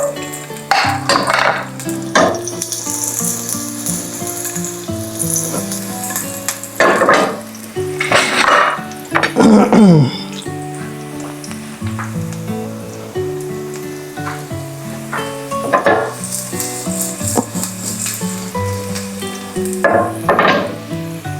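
Garlic sizzling in hot oil in a pan for a Filipino breakfast, a steady close frying crackle with occasional clinks of utensils against the pan, heard alone without speech.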